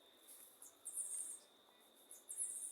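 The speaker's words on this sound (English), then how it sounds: "there is a lot of June bug, as you can hear in the background, and I hear a lot of birds" June bugs and birds call in an outdoor setting, with a continuous high insect drone beneath repeated faint, very high chirping bursts, distant and quiet.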